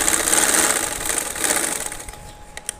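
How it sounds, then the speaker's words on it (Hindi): An electric sewing machine stitches a trouser strip in a fast, steady, close-up whirring buzz that eases off toward the end with a few faint ticks. "तो मैं उस हिसाब से थोड़ी दूरी पर सिलाई लगा रही हूँ"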